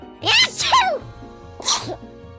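A voice acts out an exaggerated cartoon sneeze, a rising wind-up followed by a sharp burst, then a second shorter sneeze.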